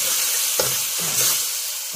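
Chilli paste stir-frying over low heat for a Thai minced-chicken and morning-glory stir-fry, a steady close sizzle with a few soft spatula scrapes against the pan, no voices.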